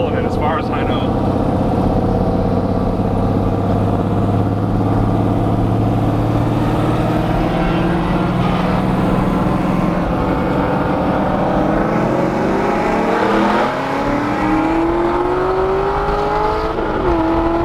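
Modified Corvette C6 Z06 with upgraded heads and cam accelerating hard in a roll race, a loud sustained engine roar climbing steadily in pitch with one shift near the end, with people talking over it.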